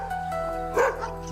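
A single dog, a sighthound of the Kazakh tazy breed, gives one short bark close by against steady background hum.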